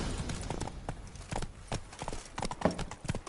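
Horse hooves clip-clop at a steady trot in The Witcher 3, a close, even rhythm of hoof strikes with a brief whinny-like tone near the end.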